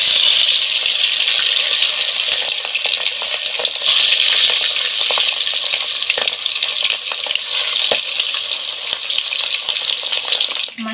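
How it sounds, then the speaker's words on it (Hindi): Fish frying in hot oil in a wok: a steady, close, loud sizzle and crackle that holds through the whole stretch, with faint spatters and no one talking. "अब तल हूँ मछली ला।"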